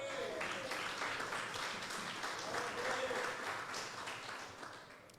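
A church congregation applauds together, a dense wash of clapping from many hands that swells and then tapers slightly near the end, with some voices mixed in.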